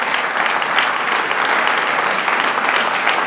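A room full of people at a political meeting gives steady, dense applause, a close, even patter of many hands clapping with no break.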